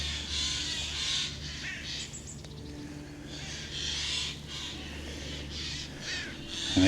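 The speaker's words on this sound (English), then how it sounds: "Can you hear them birds" Several crows caw repeatedly at a former German prisoner of war camp by a lake, harsh calls rising and falling across the whole stretch over steady background ambience.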